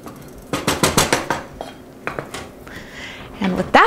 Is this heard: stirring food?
yes